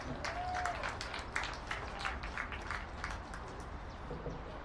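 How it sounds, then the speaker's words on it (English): Applause for graduating seniors at a men's college lacrosse game, fairly faint, diffuse crowd clapping spread across an outdoor stadium, holding steady with scattered sharper claps. "please give a round of applause to these seniors"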